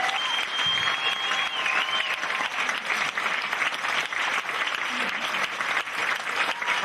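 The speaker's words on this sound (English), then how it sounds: "give them a round of applause" A comedy club audience applauds the contestants with loud, sustained clapping and a few cheers that hold steady without a break, close and filling the room.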